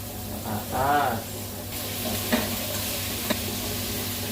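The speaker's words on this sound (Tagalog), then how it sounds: "Kailangan isabay na to para pagkapula ng sibuyas, luto na po ng kaunti ang carrots at ang patatas." Onions fry in a pan together with carrots and potatoes, a continuous close sizzle with a stirring scrape early on and a few faint clicks, with no talking.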